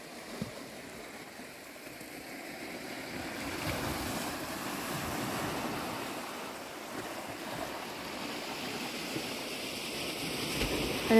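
Black Sea surf washing onto a beach, a steady broad wash of waves with some wind noise, moderately distant and continuous, no voices.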